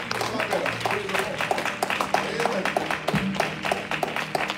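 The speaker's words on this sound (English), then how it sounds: "Can we clap for First Lady?" A church audience claps for the First Lady, a dense run of applause under a speaking voice, steady and moderately loud throughout.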